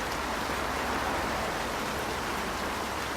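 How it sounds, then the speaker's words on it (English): Steady rain falls through trees at night beside an infinity pool, a soft even hiss of drops and drips that continues unbroken and fairly quiet, with no voices. "She can hear rain dripping off the trees now"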